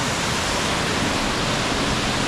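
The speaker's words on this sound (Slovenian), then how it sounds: "tu tak zelo lep slapič" A small waterfall in the Krčnik gorge roars steadily and loudly, a dense unbroken rush of falling water close by with no voices.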